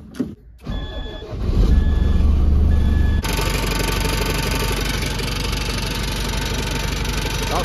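DAF lorry with low air pressure and suspected milky oil: the diesel engine cranks briefly, then catches and settles into a loud, steady, close idle that continues to the end.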